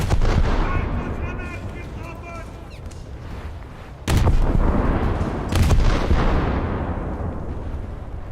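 Warship guns fire and shells strike in a naval video game featuring a German cruiser. Booming shots and heavy impacts come in loud bursts over a rumbling battle bed, with faint background tones.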